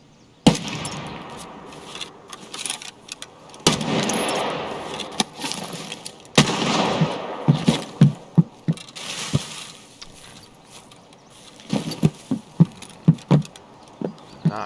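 Gunfire strikes a shed barrier in Tarkov, heard as sharp, scattered impacts and bursts of varying loudness, with rapid clusters of hits toward the end.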